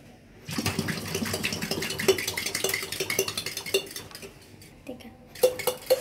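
A boiled egg rattles and clatters inside a covered glass of water as it is shaken to loosen the shell, giving a rapid run of knocking taps after a brief quiet start, then a few sharper clinks near the end.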